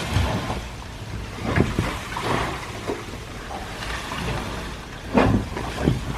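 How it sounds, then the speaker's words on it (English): Rust, sediment and debris sloshing and rattling inside a Ford Galaxie gas tank as it is rocked: close, irregular watery swishes and gritty scrapes over a rumbling background, with several louder surges. "so that is rust, sediment, and all sorts of other junk that has since landed in my my gas tanks."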